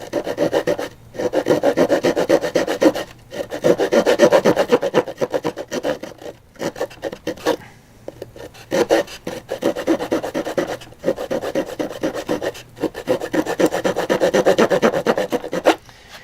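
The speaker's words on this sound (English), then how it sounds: "I've never been really great at sawing with these, just from how small it is" The small saw of a Yeacool multifunction axe rasps steadily through wood in repeated back-and-forth strokes, close up, with brief pauses between runs of strokes.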